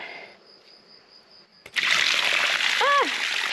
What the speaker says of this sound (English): I feel like a little bit of cold water on my feet will feel very nice.